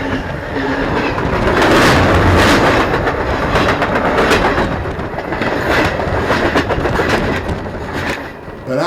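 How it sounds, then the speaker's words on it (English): A train rumbles past close by, a loud continuous roar with rhythmic clacking of wheels on the rails, steady for the whole stretch. "But after train passed"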